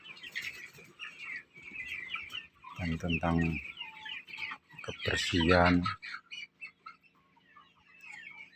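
Young chickens about two months old in a farm coop cluck and chirp, with a couple of louder calls standing out and people talking in the background.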